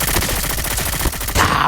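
Rapid, dense gunfire crackles continuously in a shooting video game, loud and close, with no talking over it.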